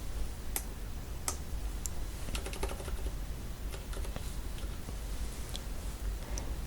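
Keyboard keys clicked while working in Photoshop, including a Ctrl+T free transform shortcut, a scattered run of light taps and a few sharper clicks over steady room hiss, with no voices.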